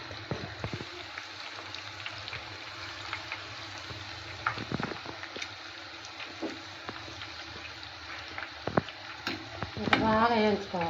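Pakodi fry in hot oil with a constant close sizzle, broken by stirring and scraping in the pan, and a louder bubbling surge near the end.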